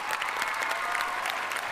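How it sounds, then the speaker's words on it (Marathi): Steady, dense audience applause for flute player Amar Oak at a Marathi TV comedy show, loud and sustained. "आणि जोरदार टाळ्या झाल्या पाहिजेत सुप्रसिद्ध बासरी वादक अमर ओक यांच्यासाठी"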